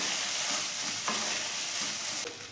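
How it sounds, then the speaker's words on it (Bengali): Beans bharta with chopped coriander leaves stirred in a pan, a steady close frying hiss with soft spoon scrapes and a couple of brief clicks, no voices. "ধনে পাতা কুচি দিলাম, এটাকেও ভালো করে আগে মেশাবো।"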